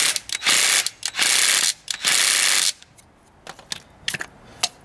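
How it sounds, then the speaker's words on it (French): An impact wrench works on the clutch of a Piaggio MP3 Yourban 300 scooter, firing three loud, close bursts of hammering rattle, followed by quieter metallic clicks and taps. "Voilà, un petit coup de clé à choc."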